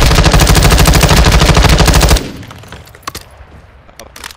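Rapid automatic gunfire in the Call of Duty video game rattles loudly and steadily for about two seconds, then cuts off to quieter background game noise with a few isolated distant shots.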